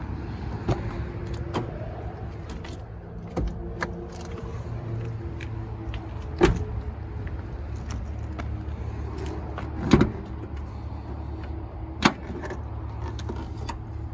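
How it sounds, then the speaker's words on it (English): The hood of a 1994 Mitsubishi Pajero Exceed 4WD with a 2.8L diesel is opened: a few sharp metallic clunks and latch clicks sound over a low, steady rumble. "we can go ahead and pop the hood here."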